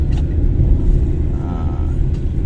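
A car accelerates to overtake on a road, its engine rumble steady and loud throughout with a slight rise in the middle, and no talk over it.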